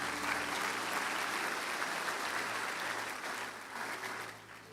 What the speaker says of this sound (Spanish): No sé si le puede dar un aplauso al Señor esta mañana